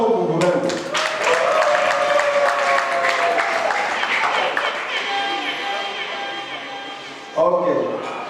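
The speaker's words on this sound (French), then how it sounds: "manifestez-vous et applaudissez très fort pour vous-même." An audience at a birthday celebration claps and cheers loudly for several seconds, the applause thinning out toward the end before a brief fresh burst.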